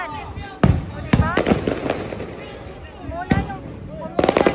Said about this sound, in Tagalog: Fireworks na naman dito, guys.